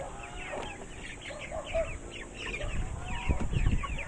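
Hungry chickens and chicks cluck and peep together at late-morning feeding time, a steady busy chatter of many birds close by with overlapping calls and no talk.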